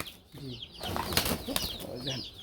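Pigeons' wings flap in short flurries close by, mixed with a soft coo and a voice speaking over the fluttering.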